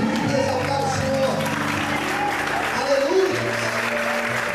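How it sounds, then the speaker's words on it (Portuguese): Church congregation applauding in praise, a steady spread of clapping under held musical tones and voices, with an even level from start to finish. "Todos podem aplaudir e exaltar o Senhor."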